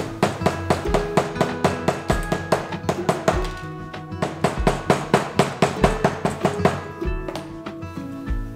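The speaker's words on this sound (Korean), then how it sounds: "패치가 벌어지거나 조인끈이 빠져나오지 않도록 우레탄 망치로 압착시켜 주세요" A urethane mallet pounds a leather patch and drawstring on a handmade leather bag, a fast steady series of close, dull thudding blows with no talking.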